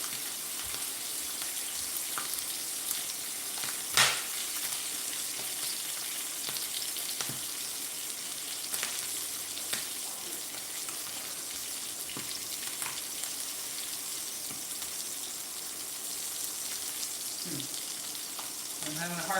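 Chicken thighs frying skin side down in a pan over medium heat, a soft continuous sizzle with occasional faint pops and clinks, fairly quiet throughout.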